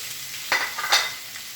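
Grated drumstick pulp for thoran stirred in a hot pan, with a low sizzle and two quick scraping strokes of the spoon close by.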